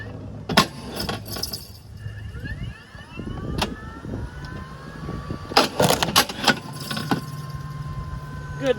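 A Ryobi 40V Kinetic battery log splitter forces through a knotty log, giving a steady motor hum with sharp cracks and splintering bursts as the wood gives way, loud and close with no talk.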